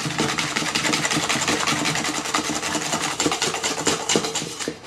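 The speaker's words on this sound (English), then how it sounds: "And I want to keep whisking." Whisk beating batter with a pinch of salt for a gluten-free lava cake, a fast, steady, close scraping rhythm of rapid strokes against the bowl that continues throughout without talk.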